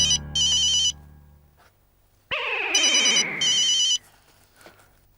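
A telephone rings with a bright electronic ringtone in repeated bursts, separated by a gap that holds a sharp thud and a sweeping swirl of effects. The bursts are loud and close, and nobody speaks.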